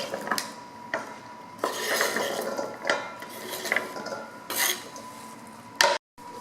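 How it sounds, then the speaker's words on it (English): Cubed butternut squash is tipped and scraped into a mixing bowl, a series of close knocks, clatters and scrapes of pieces and utensils against the bowl. "cubing this butternut squash into 1-inch cubes, and now I'm going to put it into this mixing bowl"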